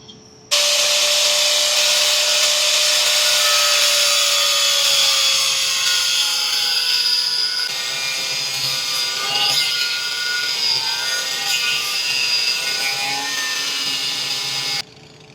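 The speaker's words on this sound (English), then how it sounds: "Just get to it with a cutoff grinder" A cutoff grinder cuts into a wheel spacer on a 2020 GMC Sierra with a loud, continuous high-pitched grinding whine that holds steady for about fourteen seconds, then stops abruptly.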